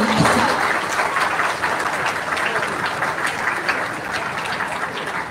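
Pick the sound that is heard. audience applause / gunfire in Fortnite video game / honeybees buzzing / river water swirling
audience applause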